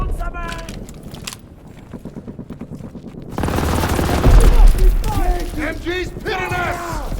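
Machine gun fire in the video game Call of Duty WW2, rapid repeated bursts at first, followed by a louder wash of battle noise with voices shouting over it.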